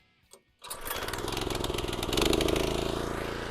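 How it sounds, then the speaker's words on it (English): A motorized California trimmer with its choke on is pulled into life after a brief quiet moment: the small engine catches abruptly, then runs with a steady, close, rattling drone that swells slightly while running. "Now let's fire up the motorized California trimmer."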